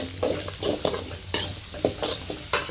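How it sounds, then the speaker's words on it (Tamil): Mustard seeds crackling and popping in hot oil with onion, green chili and curry leaves for lemon rice, stirred in a pan with sharp irregular pops over a steady sizzle, no talking. "கடுகு வந்து பொரியிறது"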